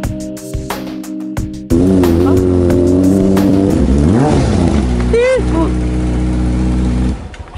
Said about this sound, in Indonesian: Ini motor apaan sih? Berisik banget.